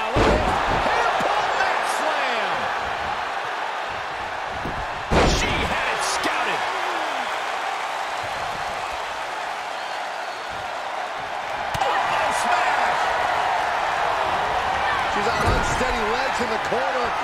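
Thudding body slams on the mat in the WWE 2K22 wrestling video game, a few heavy impacts standing out from a constant roar of the arena crowd, while game commentary talks over it.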